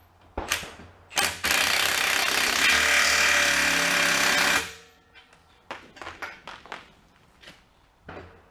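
Pneumatic impact wrench hammering on the axle bolts of a boat trailer: short bursts, then a loud sustained rattling run of several seconds, followed by more brief bursts, close by.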